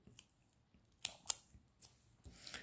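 Small scissors snip little pieces of material in a few quick, crisp cuts spaced irregularly, heard close but faint against a quiet room.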